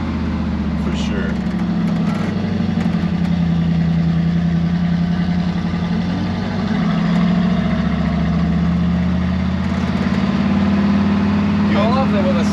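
A hot rod truck engine, a '77 F150, idles with a slight lope and a knocking sound, a loud steady low rumble throughout while people talk over it.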